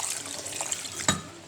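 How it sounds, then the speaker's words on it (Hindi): Water is poured over apricots with sugar in a kitchen for juice, a soft splashing trickle with a brief sharper splash near the end. "अब मैं इसमें पहले डालूँगा थोड़ा सा पानी।"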